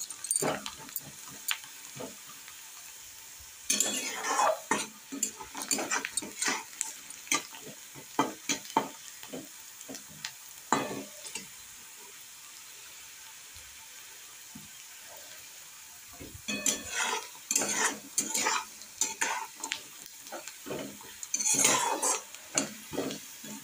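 Onions and almonds frying in a pan for simei upma, with scattered bursts of stirring, scraping and clinking utensils over a soft sizzle, alternating with quieter stretches.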